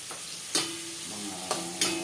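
Garlic sizzles in a hot pan for a tilapia sarciado, a soft continuous frying hiss broken by a few sharp stirring scrapes.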